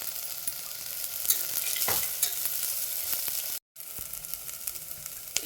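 Roasted peanuts and tomato fry and get stirred in a hot pan for masoor pulav, a steady close sizzle with scraping spoon strokes and soft clatter, briefly cut to silence once.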